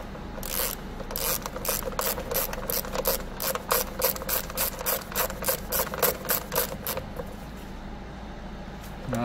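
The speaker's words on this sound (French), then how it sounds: "On met un dernier petit coup sur la vis du milieu." A ratchet tightens the middle screw during servicing of a DS3 1.6 VTi 120hp petrol car, a rapid series of close clicking pawl strokes in quick repeated bursts over a low background hum.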